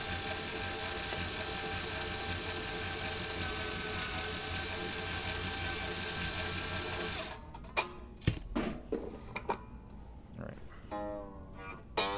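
A power drill tightens a part, its motor whirring steadily and fairly faintly for about seven seconds, then stopping and giving way to scattered clicks, clunks and handling noises.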